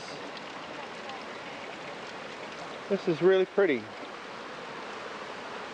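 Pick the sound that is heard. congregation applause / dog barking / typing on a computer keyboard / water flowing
water flowing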